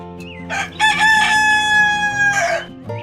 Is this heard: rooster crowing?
yes